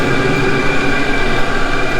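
A Chinese diesel heater runs at steady speed with a continuous even hum and a faint whine, holding near and loud without change from start to end.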